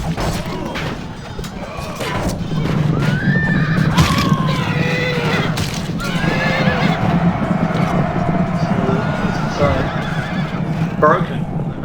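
Horses neigh and whinny amid a Rome Total War battle on the Syria Flats map, with clip-clop hooves, crashes and a continuous low roar of fighting, while commentators talk over the action.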